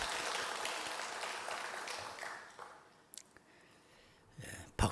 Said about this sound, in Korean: 박수가 제일 많이 나온 것 같아요.